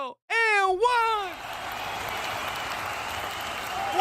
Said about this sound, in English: the Bucks crowd is going crazy